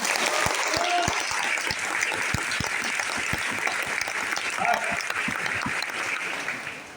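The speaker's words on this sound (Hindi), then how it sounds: "जोर से ताली बजाओ।" An audience in a meeting room claps loudly and continuously, a dense burst of applause lasting several seconds with a few sharper individual claps, fading slightly at the end.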